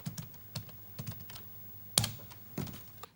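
Someone types splitter code on a computer keyboard to repair a damaged CPU bank: sparse, irregular clacks and taps, close and clear, with one sharper keystroke standing out over a quiet room.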